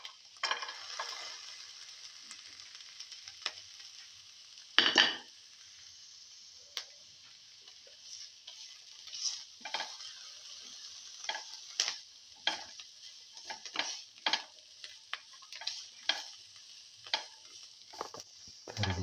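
Garlic sautéing in a pan makes a soft, steady sizzle, broken by irregular clicks and scrapes of stirring against the pan.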